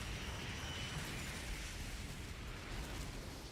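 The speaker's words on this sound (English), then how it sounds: "What a cool looking explosion." A video game explosion from Rain Code, a sustained, dense rumbling roar that holds at a steady loudness throughout with no voices over it.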